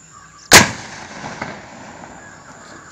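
A homemade gun built to scare off wild animals fires a single loud, sharp blast that rings out and decays over about a second into a quiet outdoor background.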